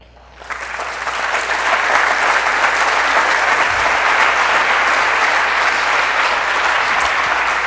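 Applause swells quickly at the end of a conference talk at an international directors' congress, rising from a few claps into a loud, sustained crowd ovation that continues evenly without letup.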